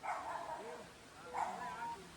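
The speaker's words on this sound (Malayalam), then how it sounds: "അബിയേ, മൊത്തം നായക്കളാണല്ലോടാ, മൊത്തം നായക്കളാണല്ലോ." A German shepherd puppy in Kerala gives two short, faint, whiny yelping barks, heard a little distance away.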